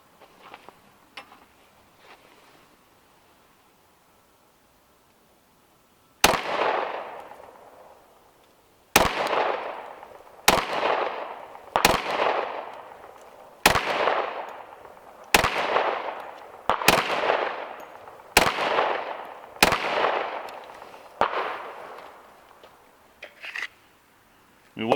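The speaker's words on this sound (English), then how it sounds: "This is the first gun that I ever got. Let's pop a few rounds through her." A 10mm handgun fires about nine loud single rounds at an even, unhurried pace, each sharp crack trailing off in echo, after a quiet stretch with faint handling noises.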